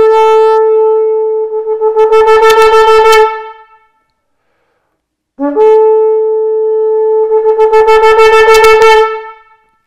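A shofar-like horn blows a teruah call, a steady loud tone breaking into rapid pulsing short notes, then a pause, then another sustained blast that also ends in quick successive bursts, close and alone.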